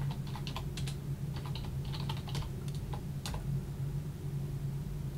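Keys clatter on a computer keyboard while a login is typed, an irregular run of close, light keystrokes over a steady low hum.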